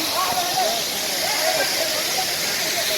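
A steady, dense roar of cascading water fills the air at Sariya waterfall near Devarapalli, Vizag district, with faint voices talking beneath the rush.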